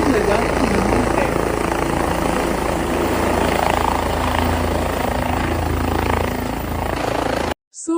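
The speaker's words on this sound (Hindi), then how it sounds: "So finally हमारे हेलीकॉप्टर आ गया है।" A helicopter arriving at the Kedarnath temple in the Himalayas produces a loud, steady rotor and engine roar that fills the whole clip before cutting out abruptly at the end.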